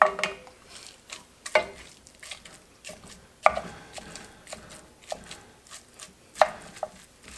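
Ground beef being cooked and broken up in a pan with a utensil: sharp, irregular knocks and scrapes of the tool against the pan sound every second or so over a faint background sizzle.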